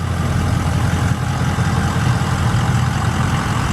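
A 2004 Ford F350 Harley Davidson Edition pickup with the 6.0-liter Powerstroke turbo diesel idles close by, a loud, steady low rumble without any voices.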